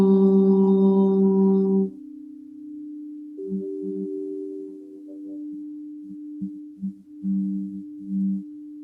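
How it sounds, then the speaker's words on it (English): A single voice chants a long, steady Om at the close of a yoga class, a sustained low hum that fades, then a soft tonal drone with faint pulsing notes continues in quiet surroundings. "let's wrap up the time we shared together with the sound of Om"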